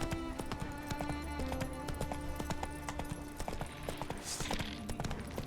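Hooves of Roach the horse in The Witcher 3 clip-clop in a steady running rhythm over game music and ambience, with a brief snort near the end.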